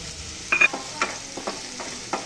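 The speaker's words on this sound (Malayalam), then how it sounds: "ഇനി ഒരു പാൻ എടുത്തിട്ട് അതിൽ വെളിച്ചെണ്ണ ഒഴിച്ചു കൊടുക്കാം. ഇനി ഇതിലോട്ട് ഉള്ളി ചെറുതാക്കി അരിഞ്ഞത് ഇട്ട് കൊടുക്കാം." Chopped onions dropped into hot coconut oil in a pan, giving a soft sizzle broken by a few sharp stirring scrapes and clatters spaced through the short stretch, with no voices.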